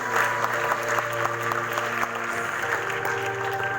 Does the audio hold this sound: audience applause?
yes